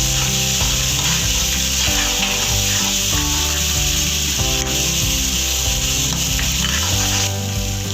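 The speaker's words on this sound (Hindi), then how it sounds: "अब हम इसमें लहसुन अदरक और हरी मिर्च की पेस्ट डालेंगे" Steady loud sizzling of coarsely ground garlic, ginger and green chili paste frying in hot oil for palak paneer, with a constant hiss and occasional scraping of a spatula, close up.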